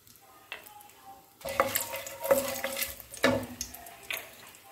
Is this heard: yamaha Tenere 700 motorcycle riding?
no